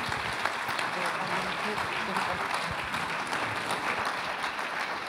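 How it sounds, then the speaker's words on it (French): Audience applause at the 6th Trophées Idée Alsace awards ceremony at a 2012 sustainable development forum, steady dense clapping filling the hall throughout without pause. "Un bel applaudissement."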